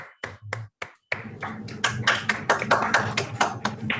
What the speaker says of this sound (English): Maybe we can unmute and clap.